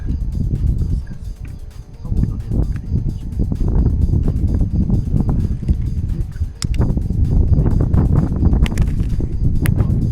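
Wind gusts buffet the microphone in a steady low rumble across the whole stretch, loud and close, with occasional rustling bursts.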